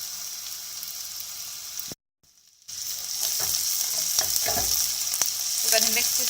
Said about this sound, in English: now we're going to add our garlic and our pepper